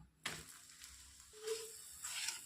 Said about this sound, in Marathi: आता छान आपण हे पराठा दोन्ही साईडनी खरपूस असा भाजून घेऊया मी इथं तेलच वापरत आहे